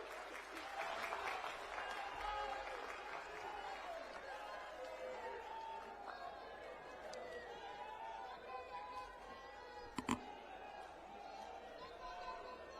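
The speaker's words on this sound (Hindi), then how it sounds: "माननीय अरविंद केजरीवाल जी, जोरदार तालियों के साथ स्वागत कीजिए" Crowd at a political rally in Jind applauding to welcome Arvind Kejriwal, a sustained roar of clapping and cheering from a large audience, loud and continuous with voices mixed in.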